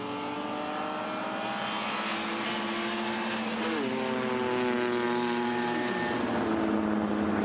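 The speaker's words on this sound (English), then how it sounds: "Paul Olsen, he's got his mirrors full of race cars." BMW E30 race cars circuit racing at Pukekohe, several engines roaring loudly together with rising and falling pitch as the pack passes close by, no talk over them.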